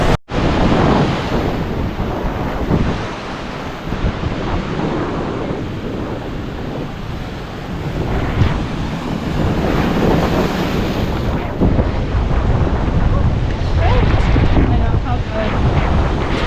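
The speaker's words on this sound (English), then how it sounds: "It's windy out here." Strong wind on a rocky Rhode Island beach buffets the microphone in a constant, heavy roar, with crashing surf underneath and gusts swelling and easing throughout.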